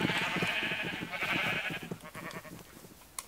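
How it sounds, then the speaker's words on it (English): Sheep bleat in the Minecraft video game near a village, several wavering nasal cries in quick succession, fairly faint, ending with a small click. "Hey, blue sheep."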